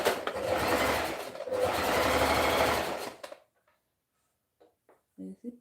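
Sewing machine stitching fabric for a homemade two-piece top and skirt, a steady rapid whir lasting about three seconds with a brief pause, then stopping, followed by a few faint handling clicks and a short burst of sound at the end.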